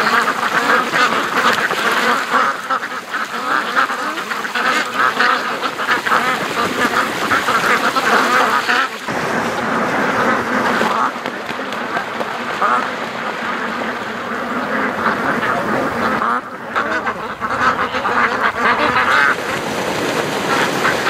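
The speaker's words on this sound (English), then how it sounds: "the ducks just freaked out" Ducks on a lake quack loudly and in a panic, a dense continuous chorus of calls with distant Canada geese honking, and a voice talks over the flock throughout.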